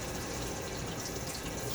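Cold tap water running steadily into a sink during a winter wet shave, a soft continuous hiss and splash at low level with no talk over it.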